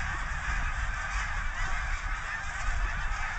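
A flock of geese in Milton, Delaware honks loudly and continuously as the birds start to leave, many overlapping calls close by with no talking.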